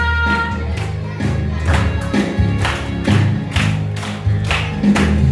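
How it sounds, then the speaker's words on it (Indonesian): Children at a Sunday school service clap their hands together in a loose rhythmic pattern, close and steady, with music and group singing running beneath the claps. "Mana tepuk tangannya buat Tuhan"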